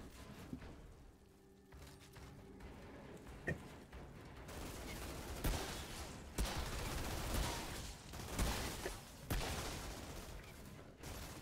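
Gunfire from a weapon in the Outriders video game, a fairly quiet run of repeated shots and bursts over a dense, busy game soundscape, with sharper cracks standing out at intervals.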